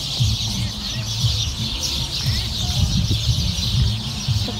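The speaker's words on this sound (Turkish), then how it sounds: "şimdi size kuş sesleriyle baş başa bırakıyorum" Birds sing and chirp in a large city park in central Adana, busy overlapping calls close by and fairly loud over low background noise.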